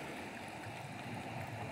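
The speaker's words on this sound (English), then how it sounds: "the water's flowing nice and gentle down along the edge of that" Stream water slides gently along the edge of a long mud seal about 100 feet long, making a soft, even, continuous wash with faint gurgles close by.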